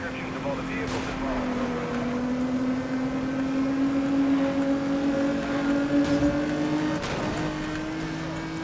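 A car racing fast in the video game Need for Speed: Most Wanted (2012), its engine a loud, steady droning whine that holds and shifts pitch near the end, with no talk over it.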